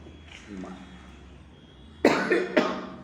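Two sharp coughs in quick succession, close and loud, after a few seconds of faint, quiet murmuring.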